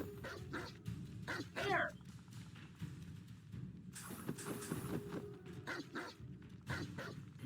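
A dog in the Hogwarts Legacy video game gives a short bark or yip partway through, mid-loud over steady game ambience, with someone talking briefly nearby.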